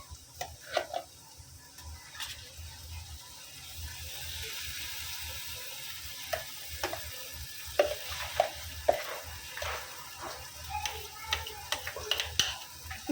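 Green chili and mint paste stirred as it fries in oil in a pan, a steady soft sizzle under repeated scraping and tapping of a spoon against the vessel, close and moderately loud.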